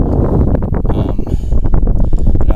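Strong wind on a lake while kayaking, loud gusty buffeting and rumbling across the microphone, continuous and close with no voices.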